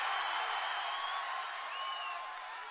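A large outdoor crowd at a Praja Galam political rally in Koduru claps and cheers, a broad hissing roar with scattered whistles that stays steady and slowly eases off.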